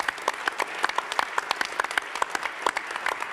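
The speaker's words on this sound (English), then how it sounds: "so big applause for Kabir." Applause from an audience at a startup pitch competition grand final, steady clapping from a moderate crowd with individual claps standing out, fairly close and continuous throughout without talk.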